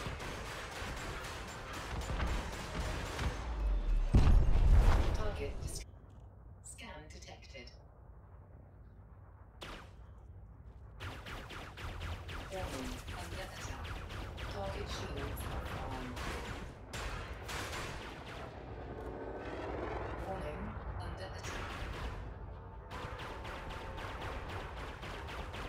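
Gimbaled laser weapons firing in Elite Dangerous, a dense burst of repeated zapping shots with a heavy blast near the start, then steady rapid fire continuing at moderate loudness throughout.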